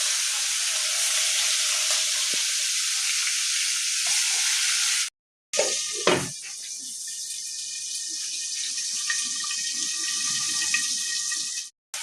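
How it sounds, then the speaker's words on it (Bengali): Koi fish frying in hot oil, a continuous loud hiss and crackle that breaks off briefly midway, then resumes with light spatters and pops. "ভালো করে ভাজতে হবে মাছগুলো"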